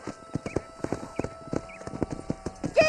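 Horse hooves clip-clop in a steady, fairly close trotting rhythm in the Western video game Red Dead Redemption, with a faint whinny at the very end and no talk over it.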